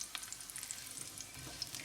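Bay leaves, cardamoms, cloves and dried chilies fry in hot oil, a soft, fairly faint continuous sizzle with light crackles and pops, no voices.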